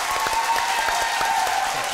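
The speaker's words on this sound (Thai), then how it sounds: "ขอเสียงปรบมือให้หมอกล้องนะครับ" Applause from a television studio audience: steady, moderately loud clapping without pause throughout.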